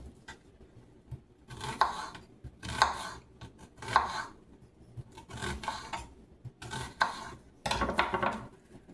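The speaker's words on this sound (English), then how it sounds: "I'm going to cut up some onion." A knife cuts up onion on a board for a homemade burger, with several bursts of close scraping and chopping strokes separated by short pauses.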